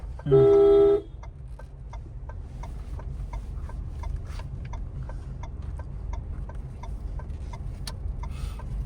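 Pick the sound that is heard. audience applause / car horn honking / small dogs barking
car horn honking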